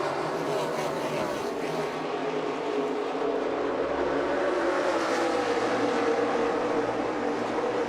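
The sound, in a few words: NASCAR stock cars starting the Daytona 500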